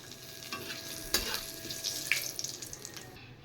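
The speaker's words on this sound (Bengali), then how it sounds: "এবার তেলে দিয়ে দিচ্ছি গোটা জিরে আর শুকনো লঙ্কা একটা তেজপাতা" Whole cumin seeds, dried red chillies and a bay leaf hit hot oil left from frying potatoes, with soft scattered crackles and sputters over a quiet stir, fairly faint and close.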